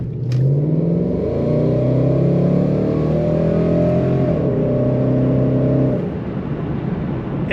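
Supercharged 2012 Ford Mustang GT Roush with an automatic transmission accelerates hard, its loud close-up engine note rising through the revs, then easing off as the roar settles.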